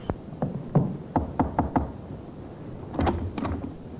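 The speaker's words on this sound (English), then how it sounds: "The sergeant knocked on the door of the second floor front." Knocking on a flat's door in an old radio crime drama: two quick sets of sharp, close raps, a cluster of several knocks early, then a pause and a second, slightly fainter group of knocks.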